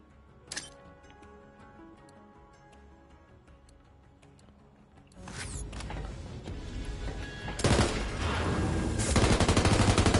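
Full-auto gunfire from a weapon in Borderlands 3, starting after a quiet stretch with a single early shot, then swelling into a loud continuous rattle of rapid rounds that grows heavier over the last few seconds.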